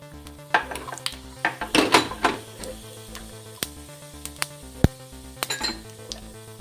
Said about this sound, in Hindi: अब हमारा तेल गरम हो गया है। हम उसमें जीरा ऐड करेंगे